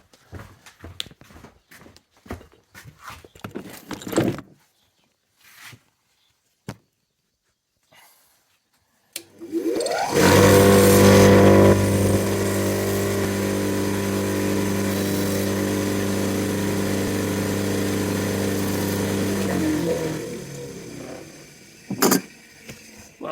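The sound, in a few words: cleaning wooden hand plane knob on wire wheel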